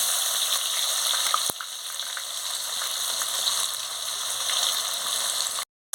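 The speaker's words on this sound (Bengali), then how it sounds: "পেঁয়াজটা ভালো করে ভেজে নেব।" Chopped onion fries in a pan with bay leaf and garam masala for a mutton curry, giving a steady close sizzle with one brief clink partway through before it abruptly drops out near the end.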